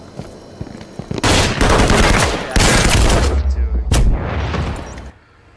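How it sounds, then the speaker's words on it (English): Rapid gunfire from the video game Firewall Zero Hour cracks out in loud, dense bursts of automatic shots, pausing briefly between volleys before cutting off into near quiet, with occasional voices underneath. "Damn, he's firing that thing fast."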